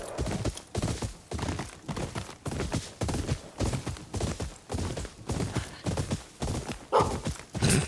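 Rhythmic horse hooves clip-clop steadily in a regular gallop-like beat in the video game Ghost of Yotei, with a whinny rising near the end.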